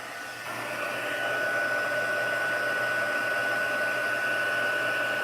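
A heat tool blows a steady, loud airy whir at close range while melting plastic on a mixed media collage, rising slightly after a brief start and then holding constant throughout.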